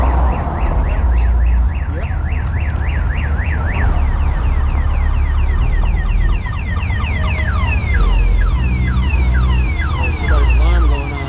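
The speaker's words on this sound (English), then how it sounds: "Somebody's alarm going off." A car alarm blares at a car meet, cycling through rising and falling warbling tones and rapid chirps, loud and close over steady outdoor rumble with people talking nearby.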